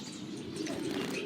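Zebra finches and other small birds at a bird reserve chirp and twitter continuously over a low cooing background, moderately close with no speech.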